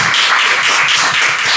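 An audience at a Bupyeong political academy lecture applauds warmly to welcome a National Assembly member, dense clapping filling the space steadily without any voices.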